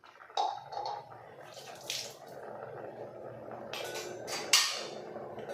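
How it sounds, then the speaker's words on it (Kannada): Water poured into a pot of beans kayi huli, a bean curry with freshly ground paste, giving a few splashing bursts and a steadier pour over low kitchen background noise, with no talking. "ಇನ್ನು ಸ್ವಲ್ಪ ನೀರು ಹಾಕ್ಕೊಂಡು"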